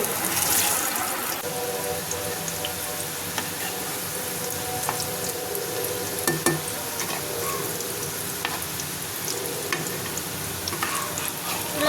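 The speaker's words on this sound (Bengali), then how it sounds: "তেলটা গরম হয়ে গেলে কাবাবগুলো দিয়ে দেবো" Shami kebabs of spiced beef fry in hot oil in a frying pan over medium heat, giving a continuous close sizzle and crackle with occasional sharper pops and no talking.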